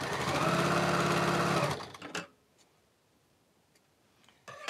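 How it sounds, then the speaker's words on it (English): A sewing machine stitches a sashing strip onto a quilt, running in a fast, steady whir for just under two seconds, then stopping; a few soft handling clicks follow before a brief restart at the end. "I'm sewing that on"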